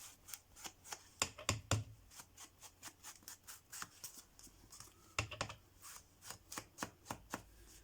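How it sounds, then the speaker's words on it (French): Quiet, close-up scraping clicks come in irregular bursts as scissors scrape along paper edges, with no talking. "avec des ciseaux, j'ai gratté les bords"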